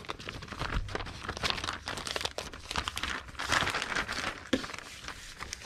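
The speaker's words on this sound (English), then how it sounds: "We'll just fold this one up and put it in a eBay poly mailer." A short-sleeve cotton shirt is folded and pushed into a plastic poly mailer, giving steady close crinkling and rustling that runs almost the whole time, with a few sharper crackles and no talking.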